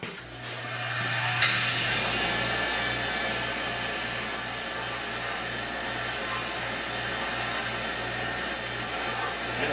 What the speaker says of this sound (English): We're going to turn the grinder on